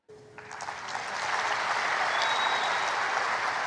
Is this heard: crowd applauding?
yes